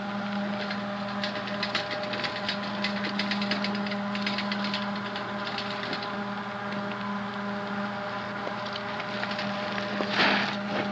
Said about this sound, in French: Un gros Harley Davidson, hein?